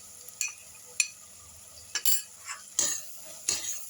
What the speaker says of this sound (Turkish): Şimdi unu kokusu çıkana kadar unu kavuruyorum.